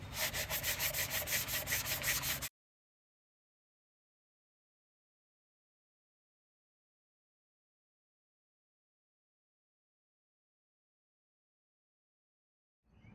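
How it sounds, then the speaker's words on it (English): Cabinet doors with filled old handle holes are sanded before repainting: a quick, loud burst of rhythmic back-and-forth strokes for about two seconds, then silence. "I'm going to sand them and then clean them real well before repainting them"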